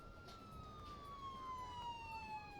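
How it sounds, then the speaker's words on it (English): An ambulance siren in the Emergency 4 Los Angeles game mod holds a long steady tone that slowly drops in pitch, with a faint pulsing warble underneath, moderately quiet over a low rumbling background. "So here the ambulance is approaching"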